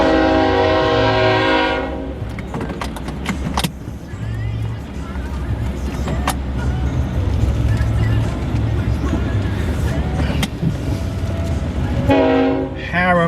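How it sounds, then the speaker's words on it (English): A train rolls through Harem, Georgia, loud and close, its horn sounding in long blasts at the start and again near the end, with rumbling wheels and rail clatter filling the middle. "Here comes a train that makes Harem what it is today."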